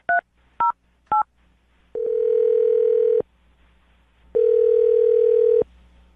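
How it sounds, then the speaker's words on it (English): Three short touch-tone beeps from a telephone keypad, followed by two long steady ringback tones separated by a brief silence, clean and close with no voices. "I'm going to dial their phone number right now."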